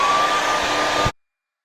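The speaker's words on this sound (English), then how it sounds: "blow dry it some more" Hair dryer blowing on hair, a loud, close, steady whooshing roar with a faint whine that cuts off abruptly after about a second, then silence.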